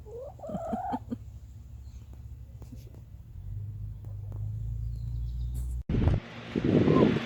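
Hens in a large backyard chicken coop give a short burst of clucking near the start, then low steady hum and scattered clicks, ending in louder rustling and scraping.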